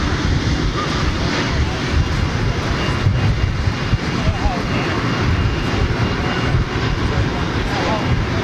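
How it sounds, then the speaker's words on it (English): Aircraft engines roar steadily at an airport apron, a loud continuous broadband drone with wind buffeting, alongside British Airways centenary activity and a distant taxiing airliner. "Ah, listen to those engines."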